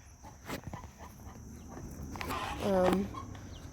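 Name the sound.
chickens clucking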